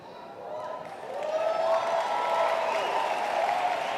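An audience at a seminar applauds, starting light and swelling into a fuller round of clapping mixed with crowd noise, sustained for several seconds without anyone speaking over it.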